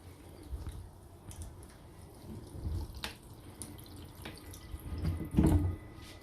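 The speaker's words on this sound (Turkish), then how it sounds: "Şebeke suyunu açalım." Mains tap water runs into a home water purifier fitted with a reverse-osmosis membrane, a low steady flow with scattered drips and small splashes, swelling louder near the end; no one speaks.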